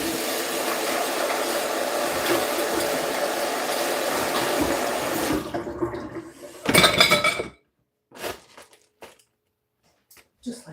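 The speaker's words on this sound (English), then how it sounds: "Rinse this off." Running tap water splashes steadily over food being rinsed while cooking chicken chow mein style noodles, then cuts off, leaving a few clattering knocks of dishes or utensils.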